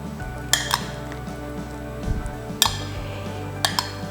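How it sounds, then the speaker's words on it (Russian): A spoon stirs milk and cottage cheese in a bowl for homemade soft cheese, giving sharp clinks and scrapes against the bowl at irregular intervals, close and clear over a low background hum, with no talking. "Хорошо перемешиваем."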